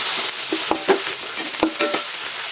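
Onions and shallots frying in a pan for Kerala-style chicken curry, with a steady sizzle under a few sharp stirring and scraping strokes, close and clear.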